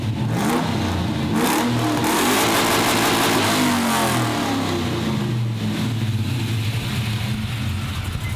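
A small LS V8 engine in a ute revs loudly and close, rising and falling through throttle blips over a continuous deep rumble with no talk.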